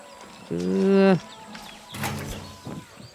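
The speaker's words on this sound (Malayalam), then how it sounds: "ഇവിടെ കുതിരയുണ്ട്" A horse in the video game Far Cry 6 gives a drawn-out, strongly pitched whinny, loud and close, followed by rougher snorting noises, with a gaming voice speaking lightly around them.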